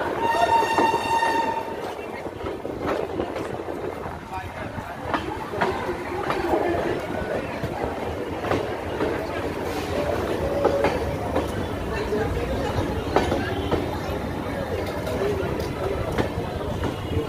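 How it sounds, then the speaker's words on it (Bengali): A through train rolls past a railway station platform, a steady loud rumble of wheels and cars with a horn sounding near the start, voices faintly mixed beneath. "Through train will be passing from platform 1."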